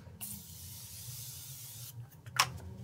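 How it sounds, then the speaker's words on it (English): Morphe Continuous setting spray mists out of its bottle in a soft, steady hiss for nearly two seconds, followed by a short, sharper spritz, close up in a quiet room. "setting spray."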